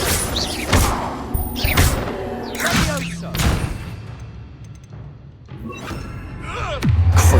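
Confringo and Bombarda spells strike in the Hogwarts Legacy video game, landing as a series of dull thumps and booming impacts spaced a second or so apart amid combat noise.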